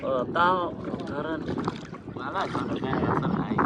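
Motor trawler boat chugging across the Chalan Beel wetland, a steady engine and water rumble with wind buffeting the microphone, while people talk over it close by.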